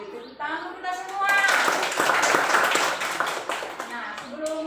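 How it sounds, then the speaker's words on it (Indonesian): Children in a classroom clap their hands together in a sustained burst of dense, bright clapping that fills most of the moment, with a teacher's voice speaking at the start and end. "Oke, tepuk tangan kita semua."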